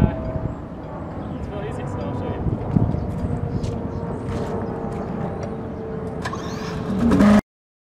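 The hover motor of a DeLorean hovercraft starting and running, a steady mid-range engine drone with mechanical rattles and a rising surge near the end, with someone talking over it.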